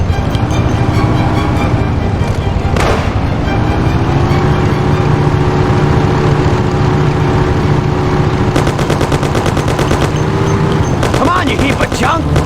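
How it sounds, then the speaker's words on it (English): Loud, fast rattling bursts of Thompson submachine gun fire in the Mafia: The City of Lost Heaven game, sounding over a roaring vintage car engine during a chase, close and continuous. "Take my Thompson! You and Sam shoot them!"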